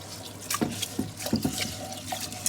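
Rice for coconut curry chicken being washed in water to remove starch: close, continuous splashing and swishing with several sharper sloshes and drips, no talking.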